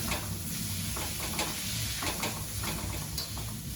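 Vegetables fry in olive oil in a pan, giving a steady loud sizzle and hiss, broken by occasional clinks and scrapes of stirring.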